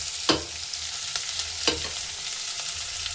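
Spoon stirring fried okra in a hot pan with a soft sizzle: two distinct scraping strokes stand out against a steady low frying hiss, with a fainter scrape near the end.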